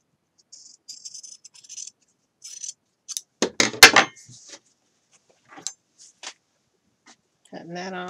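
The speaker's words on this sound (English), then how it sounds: "Just like normally when you trim your seams, you want to trim a little close to the stitching." Scissors snip through fabric seam allowance on a Simplicity 8014 shirt dress, trimming close to the stitching: a few short, separate crisp cuts and rustles, close and fairly quiet in a still room.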